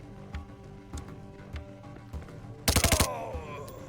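Pistol gunfire in the tactical shooter Door Kickers 2: a tight burst of about five rapid shots near the end, loud and close, after scattered faint clicks and ticks of game ambience.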